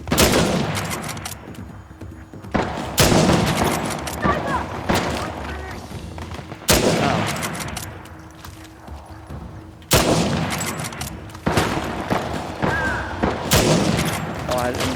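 Rifle gunfire and explosive booms crash in repeated heavy bursts through a loud, busy firefight in the video game Uncharted: The Lost Legacy, with sniper rifle fire in the mix and a voice faintly under the clamour.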